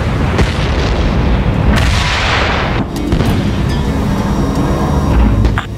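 Heavy cannon fire from an AC-130 gunship in the Ace Combat Assault Horizon video game, a dense continuous barrage of booming shots and explosions as planes on the ground are destroyed, loud and sustained throughout.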